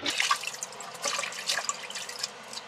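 Vegetables are rinsed under running tap water, with a soft, close splashing and dripping trickle that continues steadily at a low level.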